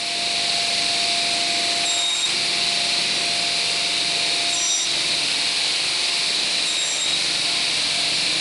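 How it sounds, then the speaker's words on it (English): MDF plates are cut to final size in a cramped furniture workshop, producing a steady, loud, hissing saw whine with slight surges in pitch, running continuously with no talk. "I started with the rough sized MDF plates and cut them to the final size."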